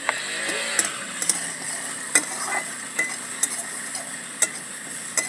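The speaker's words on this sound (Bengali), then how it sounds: "এবারে একটু নেড়ে চেড়ে নেব" Eggplant and garlic frying in a pan with salt and turmeric, stirred with a spatula, so a steady close sizzle is punctuated by repeated sharp scraping clicks against the metal, with no talking.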